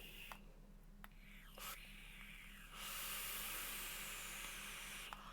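An e-cigarette vape coil sizzles during a puff: a soft breathy hiss gives way to a louder, steady sizzle that holds to the end, with a few faint clicks.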